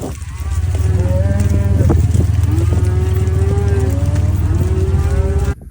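Cattle on a slow cattle drive along a road moo repeatedly in long drawn calls, several animals overlapping near and farther off, over a loud steady low rumble of wind or rain, with no talking.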